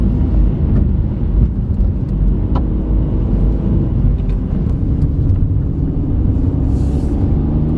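A 2024 Kia Picanto corners on the road, heard from inside as a loud, steady rumble of engine and tyre noise that stays constant with no talking.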